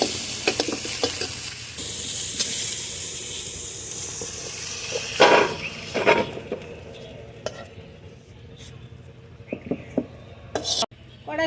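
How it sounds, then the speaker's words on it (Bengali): Cauliflower pieces fry in hot oil in a pan with a steady close sizzle, stirred with scraping and clinking utensil knocks, and the sizzle drops away toward the end as the pieces are lifted out. "কপিগুলো ভেজে নিয়েছি,"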